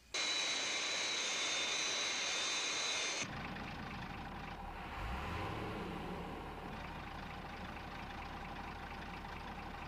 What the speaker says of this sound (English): Fireflash on final approach.